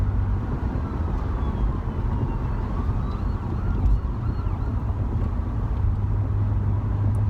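A police car siren wails faintly on a freeway, its rising and falling tone buried under a heavy rumble of traffic and wind noise throughout, with no one speaking.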